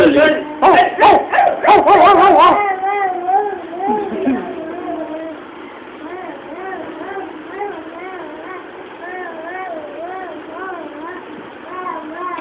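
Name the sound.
child imitating a dog barking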